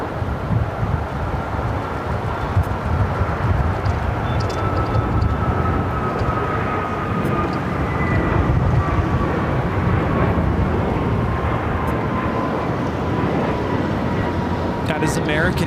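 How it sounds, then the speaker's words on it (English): American Airlines A321neo jet taking off from LAX, a steady broad roar with a faint rising whine, heard from a distance under continuous wind noise. "That is American Airlines 143 taking off to Honolulu on the A321 Neo."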